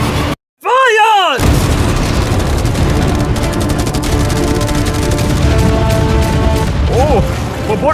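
A barrage of cannons, machine guns and fireworks fires all at once in a loud, dense, continuous burst of booms and crackling, with a person speaking over the din.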